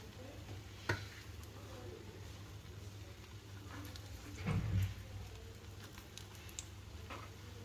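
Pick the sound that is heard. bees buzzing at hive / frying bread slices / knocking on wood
frying bread slices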